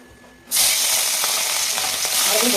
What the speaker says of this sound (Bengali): তেলটা গরম হয়ে গেছে তেলে মাছগুলো দেওয়া যাবে